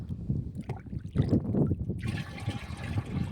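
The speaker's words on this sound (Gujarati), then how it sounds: "તો પહેલાં તો આપણે ડબ્બો ભરી લઈએ" Water pours and splashes steadily into a tin container for mixing pesticide, a continuous gurgling rush that grows brighter and fuller toward the end.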